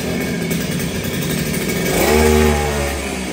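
A Kawasaki TD40 lawn mower engine runs nearby with a steady droning putter that swells briefly into a slightly higher rev before settling back.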